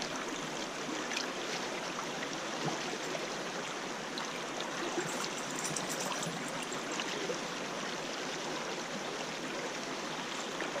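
Water washes steadily through a ribbed gold pan held in a river, giving a continuous close rushing and trickling wash with no clear breaks.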